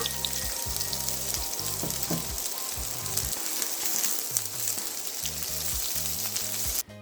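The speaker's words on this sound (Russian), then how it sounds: "В разогретое растительное масло высыпаем лук." Chopped onion hitting heated vegetable oil, with steady close sizzling and frying crackle throughout and a faint rhythmic stirring or scraping underneath, ending abruptly.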